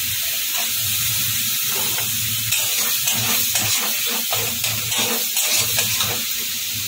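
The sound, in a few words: tomatoes added to spice masala frying in oil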